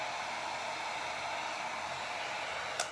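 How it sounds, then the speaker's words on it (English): Steady, even whoosh of a heat gun blowing hot air over a half-wet painted tumbler, a constant hiss with no pauses and a faint click near the end. "so I'm gonna hit that with a heat gun"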